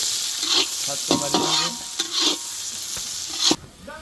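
Chopped onion frying in a pan while being stirred, a continuous close sizzle broken by repeated scraping strokes of the spatula, ending with a sharp knock against the pan.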